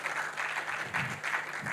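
A workshop audience applauds the moderator, steady clapping from many hands at moderate level with a faint murmur underneath.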